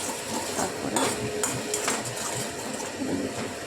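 Spice paste for Bengali doi katla being stirred and fried in a pan, a spoon scraping and clinking against the metal amid a soft continuous sizzle.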